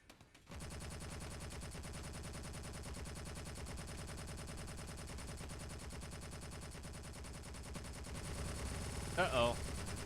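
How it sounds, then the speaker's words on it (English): Rapid sustained automatic gunfire from ships exchanging fire in the space game Space Engineers, a dense continuous burst running throughout at low level, with a few louder thumps near the end. "It's returning fire again."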